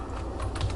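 Computer keyboard typing in a classroom setting, a soft, steady run of small clicks at low level with no talk over it.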